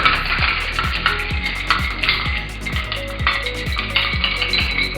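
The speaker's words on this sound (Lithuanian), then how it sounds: "Ir imame tada šaukštelį ir viską pamaišome." A spoon stirs a cocktail over ice in a glass, producing a repeated rhythmic clinking and rattling of ice cubes, loud and close, roughly two strokes per second with no talking.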